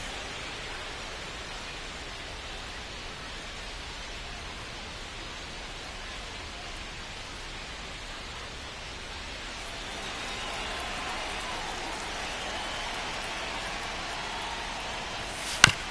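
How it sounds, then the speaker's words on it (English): Steady rain hisses across a baseball stadium at Comerica Park in MLB The Show 25, a broad even wash with no voices, thickening slightly near the end before a brief sharp click. "It feels like we might be headed towards a rain delay if the weather doesn't ease up, Chris."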